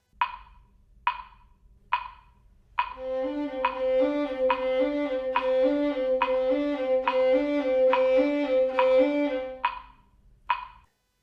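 After a few count-in clicks, strings from the second movement of Brahms's Clarinet Quintet Op.115 play a flowing triplet quaver rhythm, three even notes per beat over sustained lower harmony, closing with two final clicks.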